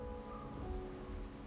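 Steady rain pours in a video game, a dense, even wash of drops with a low rumble beneath, continuous and fairly close throughout with no voices.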